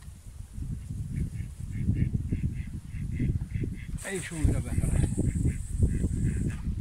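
Ducks calling repeatedly in early spring, short nasal quacks in a steady series outdoors in strong wind, with someone talking and a brief higher squeal partway through.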